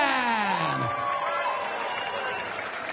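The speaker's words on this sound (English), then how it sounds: "keep your applause going for Priscilla Steenbergen" Arena crowd at the Lakeside darts championship keeps up broad, continuous applause and cheering for a 66-year-old women's semi-final player, loud and steady throughout, with a falling tonal sweep early on fading into the clapping.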